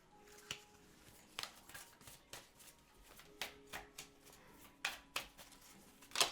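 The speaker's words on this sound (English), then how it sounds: "Okay, let's take a card from the Moonology deck." A Moonology oracle card deck shuffled by hand, with soft riffles and crisp snapping flicks repeating at an uneven pace, close but quiet, with no talking.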